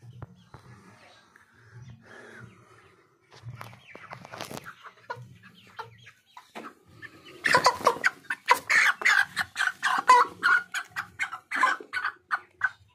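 Fifty-day-old chickens being caught for weighing give loud, rapid bursts of squawking and clucking close by in the second half, after a quieter start with low hum and scattered noises.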